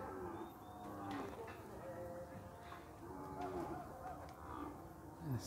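A cattle herd at a busy livestock market in Campina Grande, with several overlapping moos and lowing calls under a constant crowd murmur and occasional voices, fairly distant and even in level.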